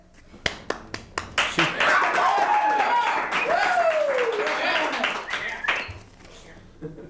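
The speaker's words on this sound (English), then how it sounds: "Everyone clapped." Studio audience clapping on a television show, a few sharp individual claps that quickly build into full applause with cheers and whoops, then taper back to scattered claps.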